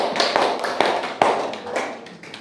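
A classroom of students applauds a presenting group, with a dense burst of hand claps and a few sharper claps, close and steady for a couple of seconds.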